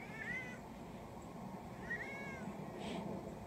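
A domestic cat gives two or three short meows with rising, wavering pitch, fairly close, over a steady low background hum; nobody talks.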